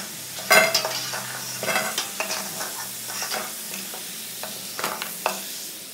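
Taro sizzles and crackles steadily as it fries in hot oil, with occasional louder stirring scrapes and clinks of a utensil against the pan.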